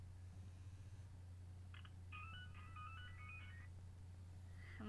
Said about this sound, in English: my ringtone is Nyan Cat.